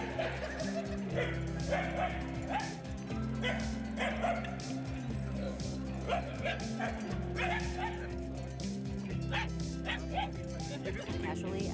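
Street dogs in India bark, yip and whimper in a rapid, overlapping chorus at a robot dog, the agitated yelps close and loud over steady background noise, with a voice talking along underneath.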